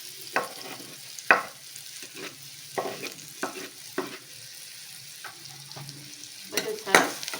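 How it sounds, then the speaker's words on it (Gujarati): Vegetables and green chillies sautéing over a medium flame for a healthy stuffed winter flatbread, with a steady low sizzle and a series of sharp spoon scrapes and stirs in the pan, close and moderately loud with no talking. "હવે જે આપણે લીલા મરચાં લીધા છે એ એડ કરી દઈશું."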